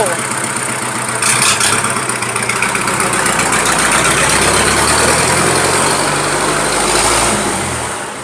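A Kubota M5000SU tractor engine idles continuously for the whole clip, a low rumbling drone at constant level with some higher-pitched mechanical noise on top.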